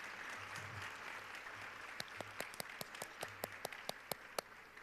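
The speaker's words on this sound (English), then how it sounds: "How about a big round of applause for all of them?" Faint, sparse applause at a morning awards ceremony for women honorees, thin scattered claps that pick up into a quick run of distinct individual hand claps toward the end.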